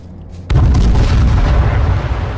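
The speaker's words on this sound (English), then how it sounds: "I'm getting away from the bombs" A loud bomb blast in the video game H1Z1 breaks a brief quiet, and a heavy rumbling roar rolls on for about two seconds afterward.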